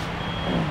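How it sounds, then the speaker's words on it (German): A tow truck reversing sounds a steady, loud reverse warning tone over its idling engine, close by, in one brief burst. "Er wendet jetzt das Fahrzeug, stößt jetzt hier rückwärts ran und dann schrauben wir."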